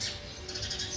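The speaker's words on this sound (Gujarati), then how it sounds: "અને ચકલીઓ પણ સરસ મજાની ચીંચી કરી રહી છે," Sparrows chirp faintly outdoors, with light high twittering over a quiet background hum and no voices.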